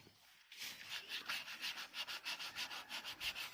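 A motorcycle inner tube is rubbed with sandpaper before patching: close, steady back-and-forth scraping strokes in a quick, even rhythm, heard alone with no talk.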